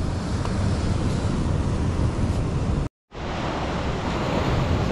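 Large ocean waves crash and roar continuously on the east coast shore at the country's far edge during pre-monsoon season, a loud, dense wash of surf and wind with a brief dropout midway.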